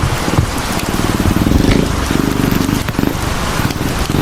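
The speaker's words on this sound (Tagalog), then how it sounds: "Ulan naman." Steady rain pours down outdoors as workers head home from building a house roof, a dense hiss of drops with scattered louder patters and faint talk in the background.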